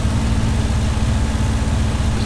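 Steady drone of a Spitfire's engine in the A2A flight simulator, a loud, even low-pitched hum with a constant tone and no breaks, with no speech.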